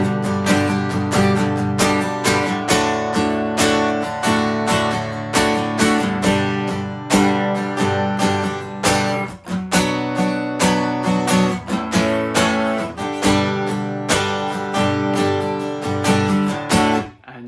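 Acoustic guitar strums chords in a steady, driving rhythm for the passage leading into a guitar solo in a song, played close and full with no voices.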